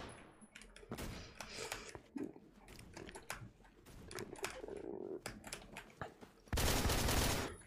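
Gunfire in a video game as a window is shot out: several sharp bursts of shots, then a loud sustained crash of noise at the end, with brief muffled voice and clicks in between.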